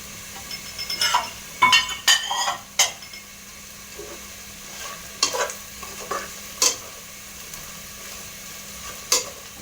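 Masala spices fry and are stirred in a pan for chicken biryani, giving a soft sizzle beneath intermittent scraping and clinking strokes of a spoon against the metal, close and clear with no talking.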